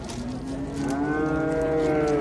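A cow moos loudly and steadily at a busy livestock market, a long drawn-out bellow rising over constant crowd murmur.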